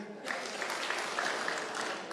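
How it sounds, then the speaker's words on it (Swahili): Audience applause at a Kiambu political gathering of county assembly members, steady clapping from a crowd that starts abruptly and holds evenly throughout, with no talk over it. "tumure makofi"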